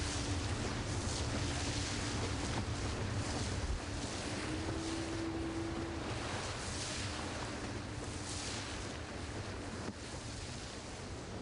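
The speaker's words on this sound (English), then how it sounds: "we find rapids again, and these ones seem to be dangerous" Canoe running dangerous rapids in the Caura Basin on the way to Pará Falls, with a steady, loud wash of rushing whitewater and wind buffeting the microphone throughout, a low boat rumble beneath.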